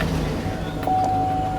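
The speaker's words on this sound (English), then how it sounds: "Once you have your oil in, you want to start up your car" A car engine starts after a fresh oil change and settles into a low, steady idle hum with a thin whine on top, close by and alone.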